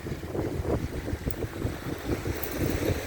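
Steady wind rushing past the microphone by the Black Sea shore at Hrybivka, with a low buffeting rumble and faint washing water underneath, no voices.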